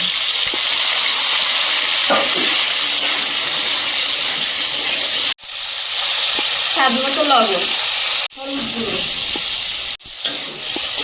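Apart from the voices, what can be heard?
potatoes frying in a pan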